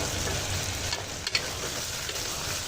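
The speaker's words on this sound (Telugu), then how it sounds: "ఈ ఆనియన్స్తో పాటు ఈ మటన్ బోన్స్ కూడా మంచిగా వేపుకోవాలి ఆయిల్లో" Onions and mutton bones fry in hot oil, giving a steady, dense sizzle close by with a few brief stirring clicks near the middle; no voices.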